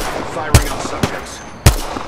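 Three loud, separate gunshots hit the player in a shooter video game. The sharp cracks are spaced unevenly over a low background hum of game ambience.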